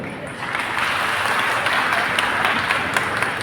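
A large gathering of anganwadi workers in Nashik breaks into sustained applause, a dense, even wash of clapping that swells after the first half second and holds steady, with some voices mixed in.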